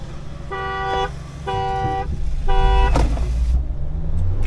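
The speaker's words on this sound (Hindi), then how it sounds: "मैं हॉर्न बजाऊं?" Three short, evenly spaced car horn beeps from a Mahindra Thar 4x4 sound over a steady diesel engine rumble, followed by the idling motor continuing on its own.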